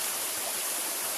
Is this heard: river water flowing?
yes